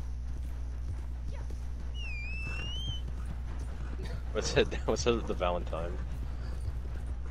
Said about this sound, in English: Get on my horse. We'll ride out of here like outlaws.